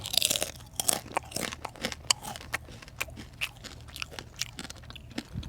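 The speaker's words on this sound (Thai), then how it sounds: "จะกินฟักทองก่อนครับ จะเห็นว่ามีผงบบคิวด้วย" Close-up crunching and chewing of a crispy pumpkin snack dusted with BBQ powder: sharp, irregular bites and crackles in quick succession, alone with no talking.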